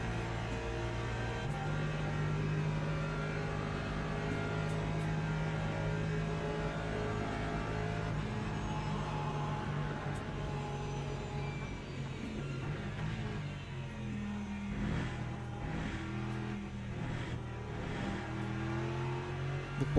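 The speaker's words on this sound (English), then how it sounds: "Here comes the Porsche." A Porsche race car passes in a racing video game at the Spa circuit, its engine a loud, continuous drone that holds steady and then shifts pitch as it goes by, with no talk over it.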